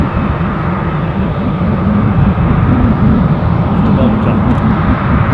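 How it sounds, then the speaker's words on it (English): A Eurowings airliner departing Dusseldorf airport roars steadily from a distance, a broad, rumbling jet drone that swells slightly toward the end, with a voice talking over it. "It's a Eurowings departure."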